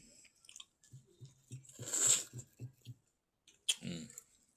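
A person chews beef nihari with soft wheat-flour roti: close, wet mastication in a steady rhythm of about eight bites, a louder squishy burst in the middle, then a pause and a final crunchy bite.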